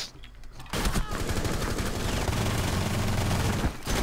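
Rapid gunshots in Rainbow Six Siege, a loud close burst of automatic fire running almost continuously for about three seconds before cutting off.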